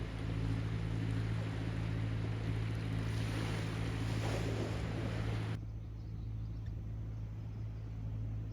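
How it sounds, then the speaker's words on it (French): Ocean waves wash steadily on a beach in Portugal, a continuous broad roar of surf with wind on the microphone and a distant boat passing now and then, the texture thinning after about five seconds. "il y a juste le bruit des vagues"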